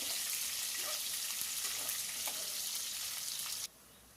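Sliced onions fry in hot oil in a pan for vegetable uppittu, giving a steady close sizzle with light crackles throughout before it suddenly drops away near the end.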